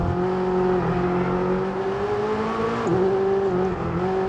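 A supercar engine in the racing game F1 22 holds a high, steady whine with a brief pitch dip from a gear change, loud and continuous with no voices.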